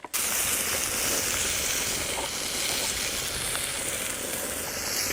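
Jalapenos fry in butter in a pan on an outdoor cook for tacos, giving a steady, dense sizzle that runs close and unbroken from start to finish with no talking over it.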